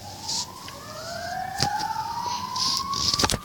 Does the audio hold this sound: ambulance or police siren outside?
yes